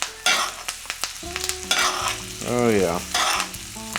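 Salmon fillet sizzles in a hot pan as it is basted with a spoon, a steady close frying hiss broken by scraping spoon strokes, while someone talks over it.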